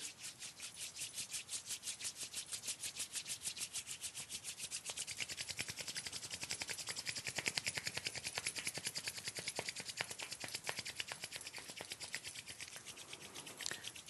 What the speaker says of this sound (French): On joint les mains et on les frotte avec beaucoup d'énergie.